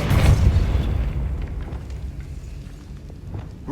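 A Depulso spell blasts in Hogwarts Legacy, a heavy, close, booming burst with deep rumble that slowly fades over a few seconds.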